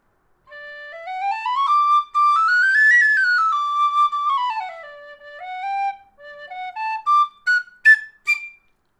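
A Tony Dixon DX001 high D tin whistle plays a bright, clear melody alone, rising and falling in smooth runs, then a few quick ornamented notes near the end.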